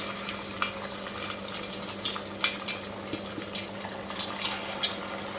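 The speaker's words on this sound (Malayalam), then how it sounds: "നമ്മൾ പരത്തി വെച്ചിരിക്കുന്ന വട ഓരോന്നായിട്ട് എണ്ണയിലേക്ക് ഇട്ട് കൊടുക്കാം" Sabudana vada dropped one at a time into hot oil, frying with a soft, steady sizzle and occasional small pops and splashes, fairly quiet and without talk.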